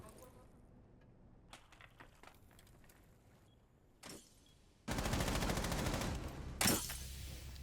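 A direct gunfight in a competitive video game scrimmage: after quiet footsteps and a few isolated shots, a sudden loud burst of sustained automatic fire erupts and runs for several seconds, ending with another sharp shot.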